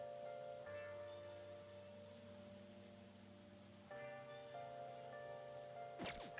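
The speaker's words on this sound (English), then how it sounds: "Oh, it's raining?" Steady rain falls in the video game Persona 5 X, a constant hiss of drops on a surface running the whole time beneath layered game music, with no talk.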